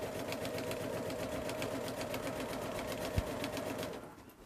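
Sewing machine stitching binding, a steady fast mechanical whirr with rapid needle pulses running at low level, one small knock near the end before it winds down.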